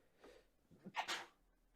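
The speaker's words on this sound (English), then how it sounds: "me sneezing every 5 minutes" A single close sneeze with a sharp inhale beforehand, loud and abrupt, with no talking.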